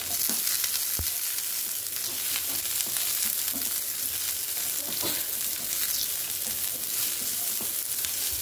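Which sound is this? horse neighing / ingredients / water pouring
ingredients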